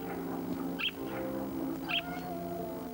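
A cat up in a tree meows twice, fairly faint and a little distant, over a steady low background hum, with no talking.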